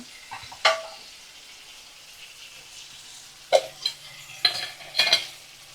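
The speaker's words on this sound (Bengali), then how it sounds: "কুচি করা টমেটো দিয়ে দিলাম, একটা পুরো টমেটো আমি দিয়ে দিলাম। তো লাল করে ভাজা ভাজা হয়ে গেছে পেঁয়াজটা।" Chopped tomato and reddish fried onion cook in a pan, a steady soft sizzle broken by a few sharp stirring scrapes, close up with no talk.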